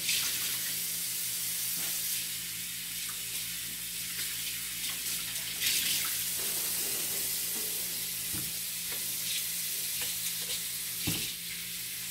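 Tap water runs steadily into a sink as food is rinsed under it, a continuous close hiss with a few soft knocks and clatters, no voices.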